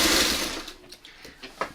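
A sewing machine running a short back stitch, a dense whirring burst at the start that fades into faint, intermittent clicks and taps.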